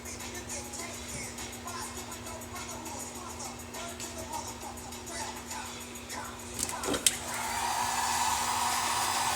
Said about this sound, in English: Get these all nice and heat shrink down.